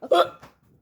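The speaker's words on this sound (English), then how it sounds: "I want the hiccups to be gone." A plush-toy skit character gives a sharp vocal hiccup, a short voiced gulp followed by a softer second catch, close and clear with no other talk.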